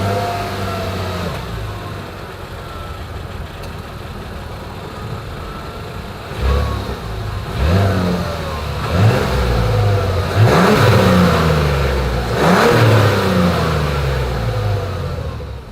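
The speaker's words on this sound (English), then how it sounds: "As always, here is that exhaust clip." A 2024 Mazda CX-90 SUV engine idles with a deep exhaust burble, then revs up sharply several times in a row, each rise loud and close before dropping back.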